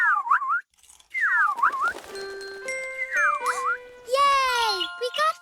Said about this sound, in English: Maybe we could whistle the tune together.